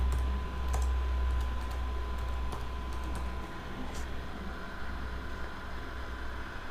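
Typing on a computer keyboard, with soft scattered key clicks over a steady low hum and background noise.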